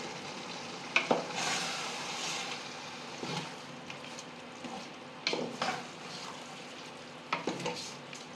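Chicken biryani masala with yogurt sautéing in a pan, a soft continuous sizzle punctuated by several sharp spoon scrapes and clinks at irregular intervals.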